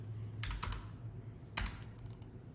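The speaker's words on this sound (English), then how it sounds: "entering the desired values, and then pressing enter" Keys on a computer keyboard are tapped in two quick clusters of presses, close and crisp over a low steady hum, with the last burst ending on an enter keypress.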